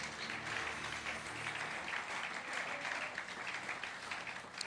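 A church congregation at a French-language service applauds steadily for several seconds, a dense, continuous clapping with no talk over it.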